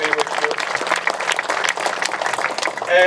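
Audience applause at an Inner Harbor groundbreaking ceremony, a dense, steady wash of clapping from a crowd that continues throughout, with a voice briefly audible near the end.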